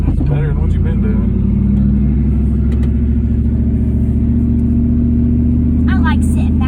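Scrap hauler truck engine rumbling as the clutch is eased out and gas applied, a loud steady low drone with slightly rising revs, voices talking over it in places.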